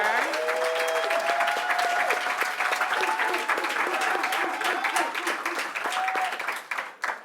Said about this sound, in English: can we give another round of applause to Tarek